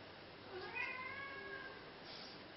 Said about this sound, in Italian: Potete sentire il gatto che rompe i coglioni intanto